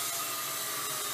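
A power drill runs steadily in a home workshop while a wooden table is being built, giving a continuous high whine with no talking over it.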